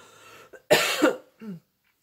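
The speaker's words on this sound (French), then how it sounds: "Je tousse toujours autant, en fait." A single harsh cough close by, preceded and followed by brief breathy throat sounds in otherwise quiet surroundings.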